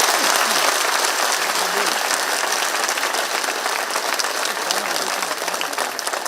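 Loud, dense applause from a large crowd at a political rally speech, a sustained wall of clapping that carries on steadily throughout with some crowd noise mixed in.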